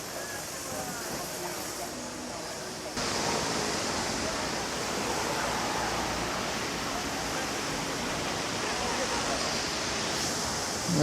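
Water from a waterfall beneath a glass bridge in Guangzhou, China rushes in a constant broadband roar that swells a little louder partway through and holds steady to the end.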